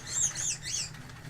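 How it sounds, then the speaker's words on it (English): A pet bird flaps its wings and chirps indoors, with a quick run of bright, close chirps over soft wing flutter that fades after about a second. "my bird is freaking out"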